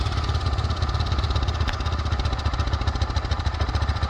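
ATV engine fitted with a Cherry Bomb muffler runs nearby with a steady, fast low-pitched thrum and rattling pulses, a continuous mid-level drone.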